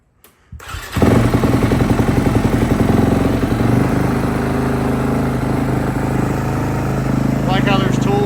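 A dirt bike engine cranks and fires after a short silence, then settles into a loud, steady close-up running rumble, with a voice briefly heard near the end.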